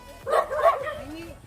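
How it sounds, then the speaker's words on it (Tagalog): A dog barks once or twice, short and fairly faint, at a rural riverside outing in the evening, with people talking nearby. "May aso guys."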